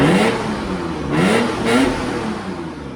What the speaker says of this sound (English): so it's got a good sound to it, and you can hear the Supercharger going